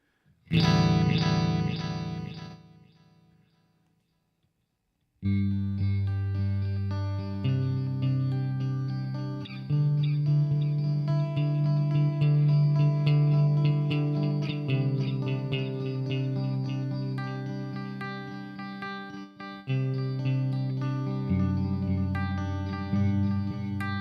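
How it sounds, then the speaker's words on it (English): Electric guitar played through an effects pedal with delay and chorus-like modulation, a single chord ringing out and fading, then after a brief pause a sustained, layered solo-style passage with echoing repeats, loud and continuous with no talking. "Delay, let's just see what delay we're using"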